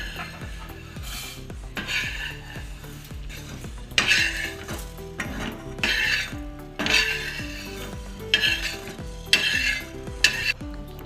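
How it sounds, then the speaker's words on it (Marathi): Whole spices including coriander are dry-roasted in a pan, a utensil stirring and scraping against the metal in repeated close strokes with soft rustling sizzle and occasional clinks, no voices. "धनिया या सगळ्या मसाल्यांना भाजून घेऊ आणि पाट्यावर वाटून घेऊ"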